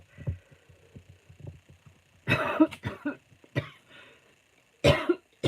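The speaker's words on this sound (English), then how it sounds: "Excuse me. Cough, cough," A few sharp, throaty coughs come in short bursts with pauses between them, fairly close and loud, alone with no talking.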